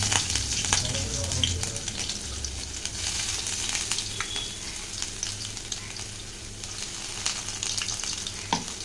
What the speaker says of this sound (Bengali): তো এটা একটু ভেজে নেব